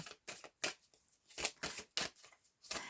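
Tarot cards being laid down on a table to cover one another give off a series of soft, crisp papery slaps and brushes, close and quiet, in irregular bursts with short pauses between.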